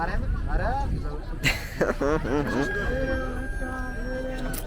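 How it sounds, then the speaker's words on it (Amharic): Many chickens at a busy holiday poultry market, with a rooster crowing and hens clucking close by amid steady crowd noise and people talking. "ይኸውላችሁ በጣም ብዙ ዶሮ ነው ያለው።"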